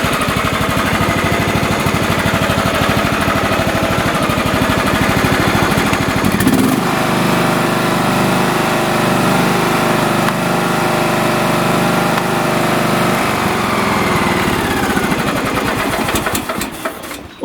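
A John Deere lawn tractor engine runs loud and steady at close range, a continuous rough mechanical drone whose tone shifts partway through and then settles, with no speech over it.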